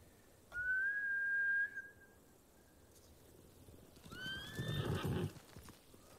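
A horse in the Ghost of Tsushima video game lets out two distinct whinnies, one early and one near the end, with soft clip-clopping hooves underneath, moderately close and without any talk.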